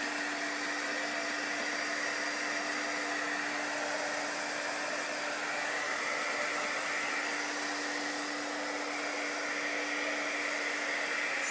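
A handheld heat tool drying chalk paste, blowing with a continuous steady whir and a constant hum from start to finish.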